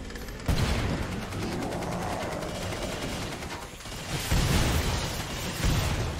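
Dense, loud gunfire and explosions in the video game Killing Floor 2, rapid automatic bursts running continuously with heavier blasts punching through near the start and end.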